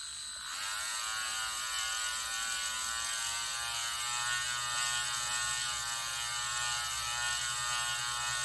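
Parkside 4V cordless rotary tool spinning up to a higher speed, a steady high-pitched whine that rises at the start and then holds evenly, fairly quiet and alone.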